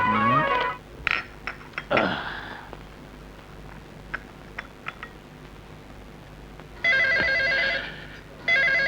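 A telephone rings in short electronic bursts, one at the start and two more near the end, with quiet room sounds and small clicks in between.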